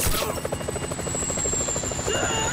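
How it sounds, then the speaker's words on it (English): Helicopter approaching in Grand Theft Auto V: a loud, steady rhythmic rotor chop with a high whine, continuous and close throughout. "Chopper! Incoming!"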